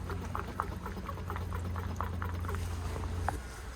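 Diesel fuel gurgles and bubbles into a filter bowl as a hand primer is pumped during a 1000-hour service on a shovel excavator, a soft, steady liquid churning with faint rhythmic clicks.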